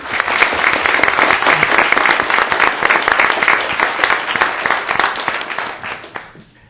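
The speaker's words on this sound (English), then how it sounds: "Let's give them another round of applause." Strong, dense round of applause from the audience at a board of education meeting for students, steady and close, then quickly tapering off at the end.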